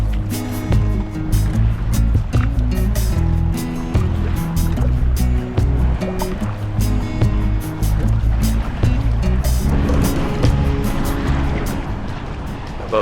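A kayak is paddled through whitecapping wind waves on the Salish Sea. Water sloshes and slaps around the hull in a continuous rough churn, with irregular louder splashes near at hand.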